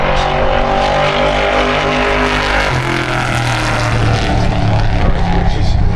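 A drag racing car roars down the Santa Pod strip, its engine loud and close, holding a sustained blare that drops in pitch partway through as it backs off near the finish.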